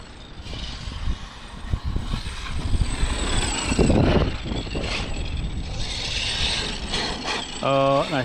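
A Traxxas X Maxx Ultimate RC truck with a Max 5 G2 and 1100KV motor rattles and grinds at its pinion gear, giving continuous ratcheting, clicking gear noise with a brief whirring whine near the end.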